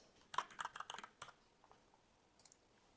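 Typing on a computer keyboard, a quick cluster of close key clicks followed by a few sparser taps, faint and alone in a quiet room.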